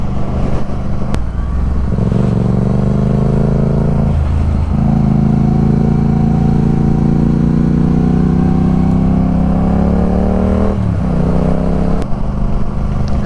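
Yamaha MT07 motorcycle engine droning steadily through a solo ride on country lanes, with the pitch rising and falling across gear changes and a couple of brief dips as the throttle eases, loud and close throughout.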